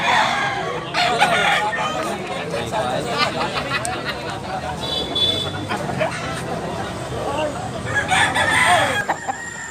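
Roosters crow loudly and repeatedly among clucking fowl at a Tabunok, Cebu gamefowl spot, with steady crowd babble and talk running underneath throughout.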